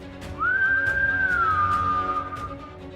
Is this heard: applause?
no